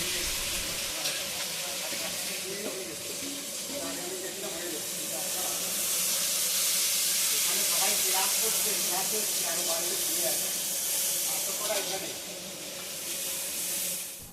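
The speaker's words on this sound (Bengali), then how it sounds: "পেঁয়াজ ভাজা হয়ে গেছে" Loud, continuous sizzling and hissing of chopped onions frying with cumin seeds in a wok, building in intensity midway, with some stirring underneath.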